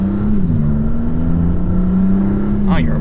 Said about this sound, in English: a lot of fun turbo noises in this car